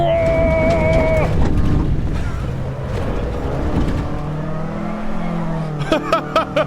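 Volkswagen MK1 in the racing game Assetto Corsa EVO, its engine revving and shifting through gears, rising and falling pitch with a tire squeal early on and sharp rev blips near the end.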